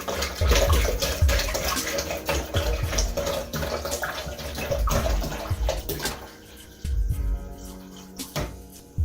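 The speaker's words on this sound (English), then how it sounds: "Pour a good amount of that water in there." Water splashes and glugs irregularly as it is poured into a container for making cold green tea, with loud uneven bursts and a few brief pauses.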